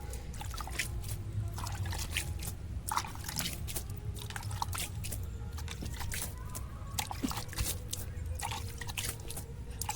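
Water trickling and dripping steadily onto soil while vegetable seeds and seedlings are watered by hand, a soft continuous splashing over low background hum, no talking.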